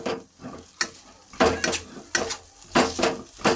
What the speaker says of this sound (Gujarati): આપણું આદું શેકાવા માંડ્યું છે હવે